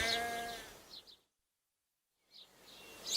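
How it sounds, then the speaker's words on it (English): A baby sheep gives a short, faint bleat at the start, followed by brief chirping and a gap of silence before more light chirps. "It's a baby sheep."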